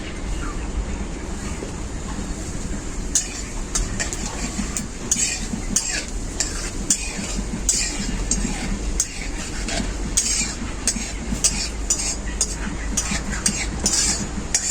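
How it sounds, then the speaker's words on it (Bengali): Whole white cumin seeds fry in hot mustard oil in a wok, giving a steady close sizzle broken by repeated scraping and stirring clicks of a utensil against the pan. "সাদা জিরেটাকে আমি খুব ভালো করে ভেজে নিয়েছি।"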